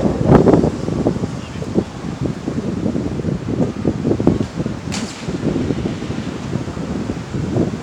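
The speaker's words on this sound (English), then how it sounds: "Oh, it's windy, sorry." Gusts of wind buffet the microphone in uneven bursts of low rumbling thumps on a street in Akihabara, with a faint voice barely noticeable underneath.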